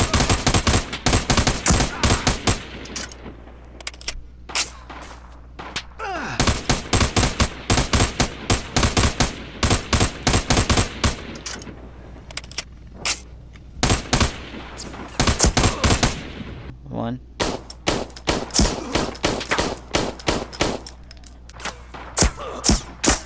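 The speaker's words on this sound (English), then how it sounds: "I'm gonna just hip fire." Hip-fired weapon in America's Army, loud rapid bursts of automatic shots in clusters separated by short gaps, close and dominant throughout.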